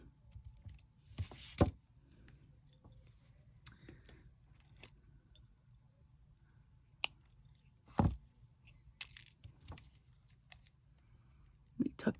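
Beading wire is snipped with small cutters while making a galaxy focal bead, giving a few sharp, close clicks scattered among soft handling rustles and faint jangling beads, with quiet talk at times.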